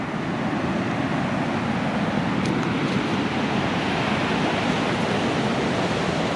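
Ocean surf at Santa Teresa Beach, Costa Rica, a continuous loud broadband roar of breaking waves with a windy wash, steady and unbroken throughout.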